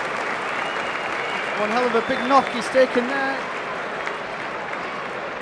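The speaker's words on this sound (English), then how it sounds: "Big round of applause, and credit to the Crusader fans there applauding as well." Hull Kingston Rovers and Crusaders rugby league fans applaud an injured player in a 2010 match, a broad, sustained wash of clapping across the stadium. A commentator talks over the applause partway through.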